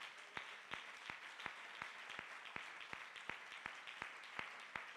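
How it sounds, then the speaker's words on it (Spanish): A church congregation claps in a faint, steady rhythm, about three even claps per second, heard from a distance with no talking. "Denle un aplauso a la gloria de Dios."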